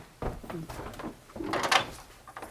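An old concealed staircase door in a historic colonial inn creaks and thumps as it is pulled open, close by, with people talking around it.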